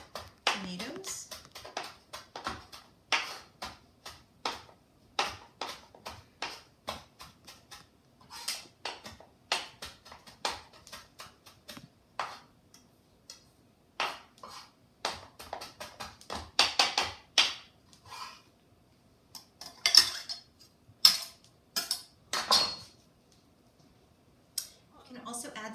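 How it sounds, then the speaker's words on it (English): A knife chopping fresh parsley on a cutting board for a stuffed calamari dish, irregular sharp taps and clicks scattered across the whole stretch, fairly quiet, with a person talking in between. "So we're going to chop up the fresh parsley and add that to our tomatoes."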